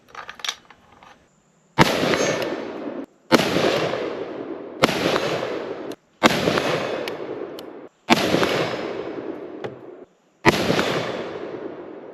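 Six loud gunshots from an IWI ACE 5.56 pistol fitted with a muzzle device, fired outdoors at a steady pace, each a sharp crack followed by a long echoing decay, with a quiet gap before the first shot.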